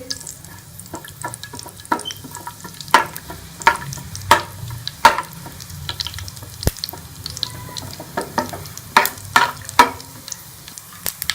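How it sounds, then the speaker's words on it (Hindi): Cumin seeds frying in two spoonfuls of hot ghee for a tadka over chana dal, a steady low sizzle broken by sharp crackles and pops, plus a few stirring clatters, close by with no voices. "मैंने फ्राई में 2 चम्मच घी के डाले और इसके अंदर हम ये ज़ीरा डाल देंगे"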